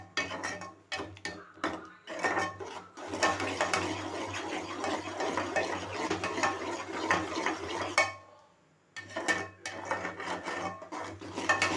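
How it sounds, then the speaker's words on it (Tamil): Scrambled egg is stirred in a pan over a full flame. Quick repeated scraping strokes rasp along with a soft frying hiss, and the stirring stops briefly near the end before resuming. No one talks. "ஃபுல் ஃப்ளேமில் வச்சு நல்லா முட்டையை நல்லா கிளறி விட்டுக்கணும்"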